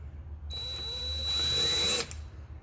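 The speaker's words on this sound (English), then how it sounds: "we're going to use this as our template for drilling" Power drill boring into the roof of a 2019 Chevrolet Colorado ZR2 crew cab truck, a steady whirring motor that rises in pitch and strain for about one and a half seconds, then cuts off abruptly.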